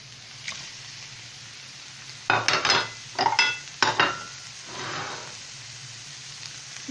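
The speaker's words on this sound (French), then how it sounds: "Je rajoute la viande que j'ai cuit tout à l'heure." Cooked minced beef is tipped into a pan and stirred, giving a few loud scraping, clattering bursts in the middle over a faint steady background hum, with quiet gaps before and after.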